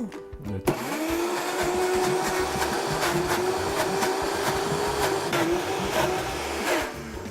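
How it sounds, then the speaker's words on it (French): Countertop blender blending avocado chocolate mousse after water is added, a steady loud whirring motor drone held for several seconds with a slight rise in pitch, close and continuous. "Do we blend it now or add the water?"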